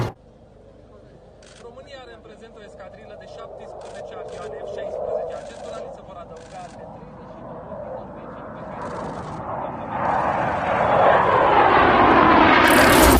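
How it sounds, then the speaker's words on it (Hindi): An F-16 fighter jet flown by Ukrainian pilots in training in Romania roars with a jet engine that swells steadily louder toward the end, under a voice speaking over it. "यूक्रेन के पायलट जो हैं F-16 फाइटर जेट उड़ाना सीख रहे हैं"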